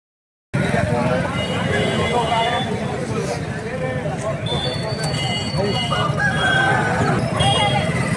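Native roosters crow at a busy country-chicken poultry market, their calls rising over a constant bustle of people talking and moving about.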